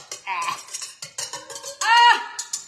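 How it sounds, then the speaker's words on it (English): Eggs and vanilla being whisked in a metal bowl, heard close as quick, repeated metallic clinks and scrapes with bright ringing tones from the bowl. "I bet I'm supposed to whisk that. What do you guys think? You know, I don't like to whisk when it's metal."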